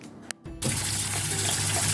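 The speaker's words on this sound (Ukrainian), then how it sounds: "Ось так промиваю тут проточною водою" Tap water suddenly starts running loudly and steadily, close by, splashing over grapes being rinsed in a sink after a brief click.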